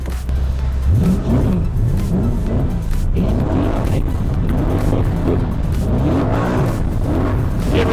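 A Scion FR-S with a swapped 3UZ V8, Kelford cams and a 7,800 RPM redline revs up close and loud, giving several quick rising and falling engine sweeps in a row.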